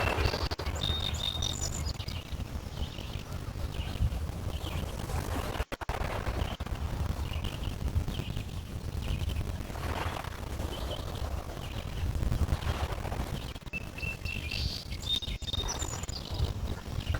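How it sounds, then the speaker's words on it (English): Small birds chirp and tweet by a park lake, with repeated high calls in scattered bursts over a steady, soft outdoor background hiss and occasional faint low thumps. "Bird sound."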